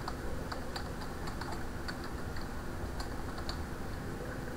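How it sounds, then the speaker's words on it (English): Fingers tapping out a command on a computer keyboard, quick irregular clicks of individual keys at close range against a steady background hiss. "So I'm going to type net user John forward slash full name colon"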